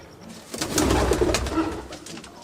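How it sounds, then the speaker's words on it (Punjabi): Pigeons coo in steady low murmurs at a loft, with a denser burst of overlapping calls partway through, close and moderately loud with no speech. "ਉਧਰ ਕਿਵੇਂ ਤੜਚ ਕਬੂਤਰ ਫਿਰ ਰਿਹਾ ਆਪਦੀ ਚ ਮਸਤੀ ਦੇ ਵਿੱਚ"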